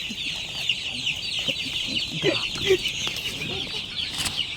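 Several farm chickens cluck and murmur continuously nearby, with scattered soft squawks over a hissing, busy background.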